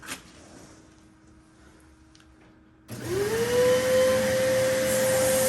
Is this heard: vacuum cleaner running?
yes